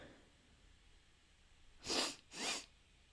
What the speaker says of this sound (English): That was only a half sneeze.